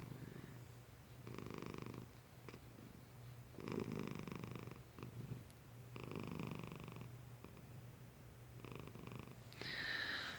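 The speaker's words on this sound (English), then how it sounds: "She is still purring up a storm." A cat purrs in soft, steady rumbling bursts that rise and fall with each breath, close but quiet, alone with no talking.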